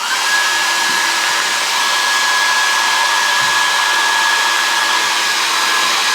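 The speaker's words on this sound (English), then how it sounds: "Hair dryer helps a lot." A hair dryer blows warm air onto chocolate coloring to melt it, a loud, steady whooshing roar with a constant whine running unbroken throughout.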